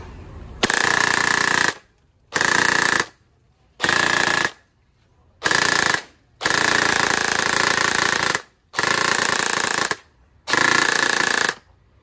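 Upgraded WD PDX version 2 gel blaster on an 11-volt battery firing loaded gel balls in seven rapid full-auto bursts, each roughly half a second to a second long with short gaps, loud, buzzing and close.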